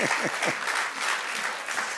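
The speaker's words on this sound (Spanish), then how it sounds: "Dando aplausos al Señor." A congregation claps together during a Spanish-language church service, a loud, full burst of applause that continues steadily from start to finish and nearly hides a few faint voices.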